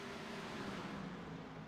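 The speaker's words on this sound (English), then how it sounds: "As Sean makes the pass there on Dean outside lane." Race cars circling an oval at Iowa Speedway during a short-track series race, a steady droning engine roar with tonal bands, distant and continuous without any voices.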